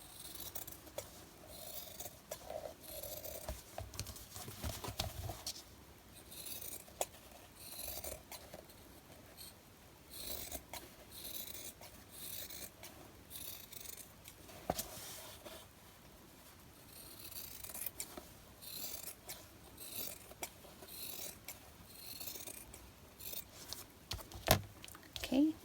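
Scissors trimming the fabric cover of a junk journal, quiet repeated snipping and rustling of cloth at close range, irregular and faint throughout.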